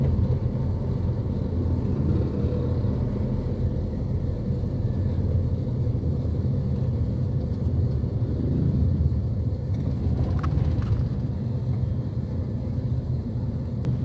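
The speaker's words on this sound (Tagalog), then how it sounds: "Nagkagulo-gulo yung mga tricycle." Heavy traffic of motor tricycles jams a street in Divisoria, making an unbroken, close engine rumble with a little faint higher clatter partway through.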